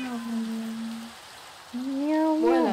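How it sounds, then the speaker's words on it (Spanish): Rain falling in the Minecraft video game, a soft, steady patter in the background beneath louder gliding tonal sounds that rise and waver toward the end. "Está lloviendo."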